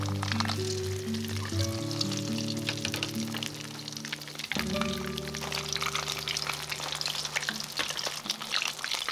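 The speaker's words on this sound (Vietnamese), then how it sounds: "Khi một mặt cá đã vàng rồi thì mình mới lật cá qua mặt còn lại để chiên tiếp." Fish frying in hot oil in a pan, flipped partway to brown the second side, gives a steady close crackle and sizzle running through the whole stretch.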